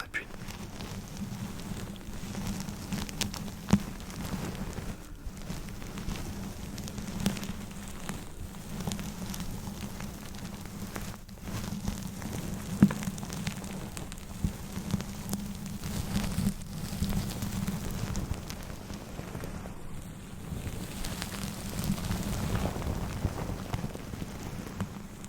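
Rain-like pattering comes from a dense-bristle brush pressed against a scalp for ASMR. It is soft, steady, close-miked crackling that runs continuously with small irregular taps throughout.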